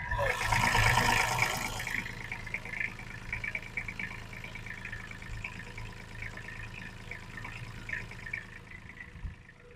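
A small Kubota tractor engine runs steadily with a low, chugging drone, louder in the first couple of seconds and then settling into an even idle.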